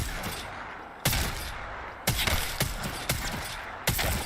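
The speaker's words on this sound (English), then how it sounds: "Now, the 30-30 is a pretty good gun." Rifle shots from a 30-30 lever-action in the video game Apex Legends: about five loud, sharp single cracks spaced roughly half a second to a second apart, each with a short ringing tail, with no voices.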